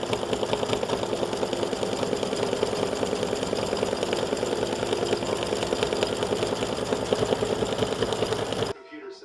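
Embroidery sewing machine running a satin stitch on a St. Patrick's Day beer mug design, a fast, steady mechanical whir and rapid needle rhythm held at close range for several seconds before cutting off abruptly near the end.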